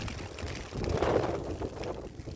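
Wind gusts on a beach, a broad rushing roar that swells in the middle of a short stretch and buffets the microphone.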